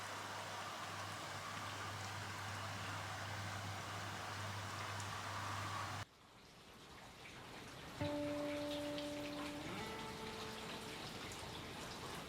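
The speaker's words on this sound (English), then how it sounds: "hang on, I'll be quiet and you can actually hear the rain" Rain falling outside, a steady soft patter and hiss of drops on surfaces heard at a distance, with a shift in tone midway and faint tonal hums later, no one speaking.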